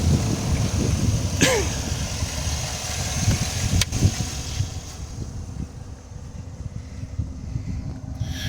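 A 2020 Chevy Silverado half-ton Trail Boss Z71 with a 5.3 liter engine runs with a steady low rumble, partly masked by gusting wind noise outdoors, with a couple of brief knocks.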